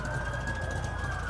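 Police car siren, a steady sustained wail heard continuously over a low rumble of background noise, moderately loud.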